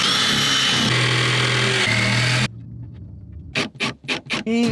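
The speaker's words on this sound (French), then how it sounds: "Pour après passer à la scie sauteuse." A jigsaw cuts a hole through a van's panel, first a loud, steady motor whine, then a pause and a series of short, sharp cutting bursts in quick succession.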